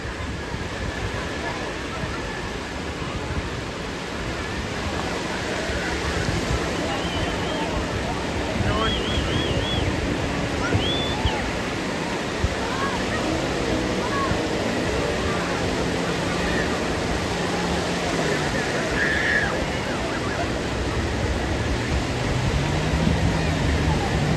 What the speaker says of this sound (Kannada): ಅಲೆ ಹಬ್ಬರಕ್ಕೆ ಎಗಿರುತ್ತೆ